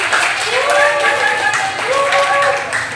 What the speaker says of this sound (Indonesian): Oke, beri tepuk tangan buat Michael.